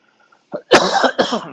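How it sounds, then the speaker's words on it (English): A few close, harsh coughs in quick succession, starting with a short throaty catch then two louder bursts. "Sorry for the coughing"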